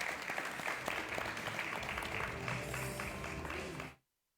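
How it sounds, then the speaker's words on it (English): An audience at the Indigenous Language Imbizo 2022 gathering gives a round of applause: a fairly quiet, even wash of many hands clapping that carries on steadily, then cuts off abruptly near the end. "A round of applause."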